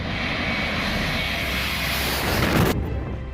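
A low-flying airplane passes overhead near a beach, a loud, steady engine roar that swells briefly before cutting off abruptly, with no voices.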